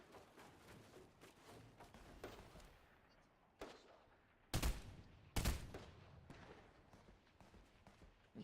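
Burst-fire weapon shots in Fortnite, with scattered quiet gunfire and two sharp, loud close bursts standing out midway, amid faint background game noise.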